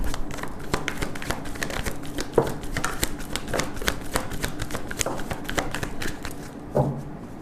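A deck of tarot cards is shuffled steadily by hand for several seconds, a close, crisp flurry of riffling and tapping that keeps going without a break, with no voices over it.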